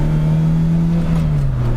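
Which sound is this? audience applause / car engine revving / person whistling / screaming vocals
car engine revving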